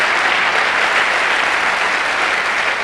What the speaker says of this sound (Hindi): एक जोरदार तालियां होनी चाहिए उनके लिए